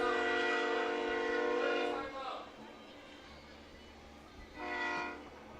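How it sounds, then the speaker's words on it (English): A locomotive horn sounds loud and sustained beside a night high school football game, then drops away before a second shorter blast near the end over crowd noise. "If you hear the train horn, there's a locomotive going by in the far end zone."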